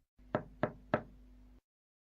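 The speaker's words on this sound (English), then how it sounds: "and she knocked on the door." Three evenly spaced knocks on the door of a dwarfs' cottage in the forest, sharp and close, over a faint steady hum.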